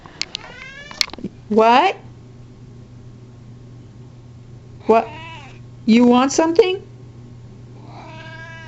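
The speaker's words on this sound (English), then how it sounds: "So that was just my kitty saying hi to you guys." A pet cat yowls repeatedly to be let out of a room, with loud drawn-out meows in two bursts close to the listener, while a person answers it in brief speech over a low steady hum.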